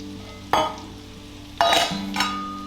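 Green beans dropped into a hot pan of melted butter burst into loud sizzling and frying, with sharp bursts as they land and a steady crackle continuing beneath.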